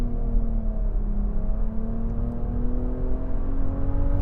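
2025 Nissan Rogue with a CVT accelerating hard with the pedal floored to pass, a sustained engine drone with a slowly rising whine, steady and fairly near, with no talking.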